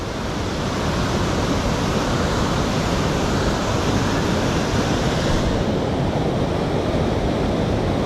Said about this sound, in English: Look at all that water flowing down the Collins River right through that chute right there.